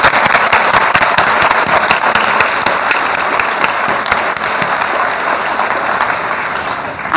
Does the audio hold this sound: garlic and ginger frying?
no